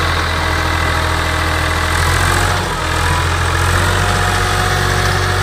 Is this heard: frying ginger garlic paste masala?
no